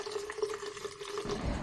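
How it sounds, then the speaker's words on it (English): Water is poured into a large pitcher, a soft steady trickling fill heard up close and fairly quiet, growing fuller and heavier near the end. "you should fill the water into the large pitcher"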